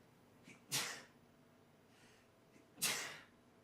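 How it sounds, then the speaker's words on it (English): Two sharp sneezes, each a sudden explosive burst, spaced about two seconds apart, with faint breathing in between and no talking. "I get that sneeze when I get hungry"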